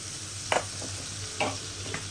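Chopped large tomato being tossed into a hot pan for a country chicken fry, giving a steady sizzle with a few sharp stirring scrapes spaced out over about two seconds, close and moderately quiet.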